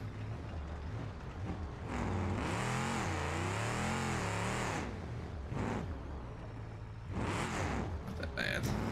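Engine of a square body mud truck in BeamNG.drive, droning loudly and steadily with rising and falling revs as it drives through deep mud, with brief bursts of higher throttle near the end.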